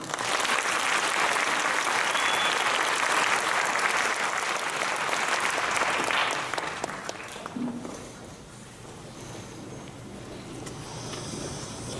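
A church congregation applauds to welcome the pastor to the pulpit, sustained close clapping for about six seconds that then fades into a quiet, hushed room.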